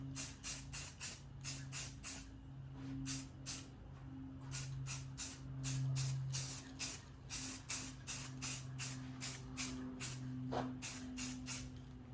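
Rapid, rhythmic bursts of a spray gun lay a heavier coat of finish over taped wooden flags, short hissing pulses repeating steadily over a low background hum.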